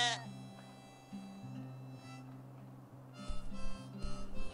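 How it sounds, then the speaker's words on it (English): Sheep in the video game Moirai bleat in drawn-out calls over a low droning game soundtrack, with a louder cluster of bleats toward the end. "Sheep."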